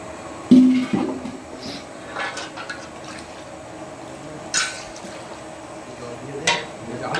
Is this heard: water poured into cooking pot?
yes